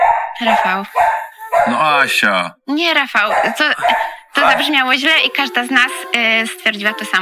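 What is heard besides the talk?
dogs barking in the background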